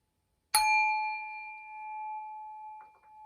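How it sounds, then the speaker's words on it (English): A small metal bell or singing bowl is struck once and rings out with a long, clear sustained tone that slowly fades, close and fairly loud, with a faint voice murmuring near the end. "I'm even gonna like ring my little bell, my little bowl here."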